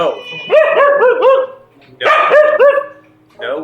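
A dog barks in the Astlibra video game, with several loud, bouncy yips in two quick bursts close up, and a person talking over them.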